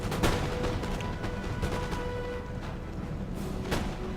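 Musket volleys and artillery fire from a battle in the video game Empire: Total War, a dense, continuous crackle of scattered shots with a few heavier booms standing out, loud and unbroken for the whole stretch.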